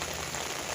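Rain patters steadily onto an umbrella in a garden, a dense close hiss of drops with no talking.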